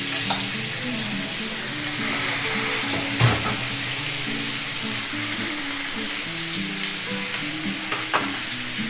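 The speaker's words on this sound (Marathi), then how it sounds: "शॅलो फ्राय करायचं आहे आपल्याला।" Chicken tangdi kebabs, drumsticks coated in masala, shallow frying in a pan with a loud, steady sizzle and crackle of oil close by, broken only by small clinks, with no voices.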